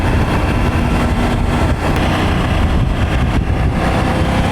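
A Triumph Tiger 900 Rally Pro fitted with an Arrow exhaust runs with a loud, throaty, low rumble, steady and close throughout with slight fluctuations.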